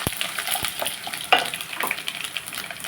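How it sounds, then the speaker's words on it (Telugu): Cumin, dried red chillies and mustard seeds frying in hot oil, a steady close sizzle with crackles and stirring scrapes throughout. "జీలకర్ర తర్వాత ఎండు ఎండుమిరపకాయలు ఆవాలు కూడా వేసేసుకొని మనం ఒకసారి కలిపేసుకుని"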